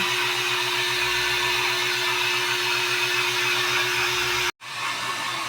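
A steady, loud electric blower drying puppies hums and whirs continuously, with a constant mechanical drone, then cuts off abruptly near the end before starting up again.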